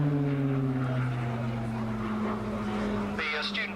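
A Tucano turboprop trainer aircraft drones with a steady low hum and tonal whine, holding close and loud throughout, at an air show.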